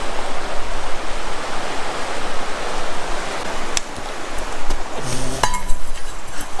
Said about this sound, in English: Water bottle finally fell.